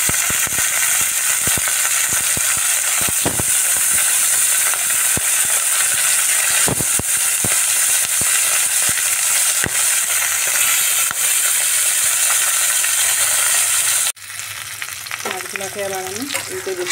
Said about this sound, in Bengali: কড়াইতে দিয়ে দিচ্ছি সরষের তেল। তেলটাও গরম হয়ে গেছে, এবার তেলের মধ্যে আমি মাছগুলো দিয়ে দিচ্ছি।